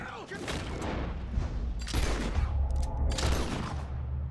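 Gunfire bursts out in Red Dead Redemption 2, a rapid volley of loud, close shots in several clusters over a noisy game soundscape.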